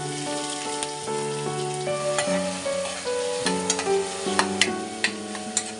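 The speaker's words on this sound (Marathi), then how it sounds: "अद्रक लसूणची पेस्ट टाका आणि कांद्याला लाल होईपर्यंत तळून घ्या।" Onion frying in oil in a kadai with cloves, black pepper, cinnamon, cardamom, bay leaf and cumin, giving a steady, close sizzle under a tonal melodic line throughout.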